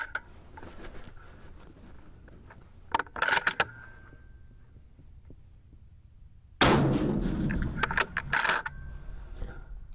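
A single rifle shot from a bolt-action rifle cracks out loud and sharp, its blast trailing into a brief rumbling decay, preceded by quieter clicks and handling sounds.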